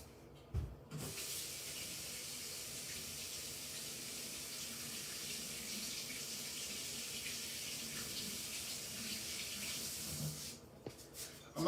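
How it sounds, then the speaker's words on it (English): A tap runs steadily for about ten seconds as a paint brush is rinsed under it, a close, even hiss of water with a few knocks at the start and end and no talking. "I'm gonna rinse my brush out real quick because I don't want it to dry out too."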